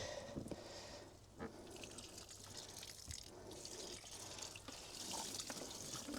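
Water poured onto freshly transplanted peony or asparagus plants in a garden, a steady splashing and trickling stream with brief drips and gurgles, close and fairly even throughout, no talking.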